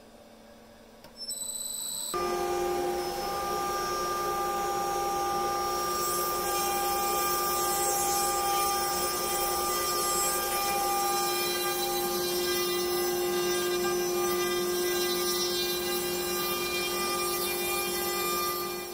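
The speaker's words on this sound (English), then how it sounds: "For this next cut, I'm doing something on my CNC I've never done before." A CNC router with a quarter-inch end mill cuts wood for board game piece holders, starting abruptly after a short quiet lead-in and then holding a loud, steady whine with a broadband cutting roar. No one speaks.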